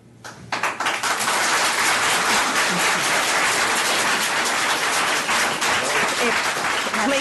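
Loud, sustained applause fills a county quorum court meeting room, starting abruptly and continuing as a steady dense wash of clapping with a murmur of voices beneath.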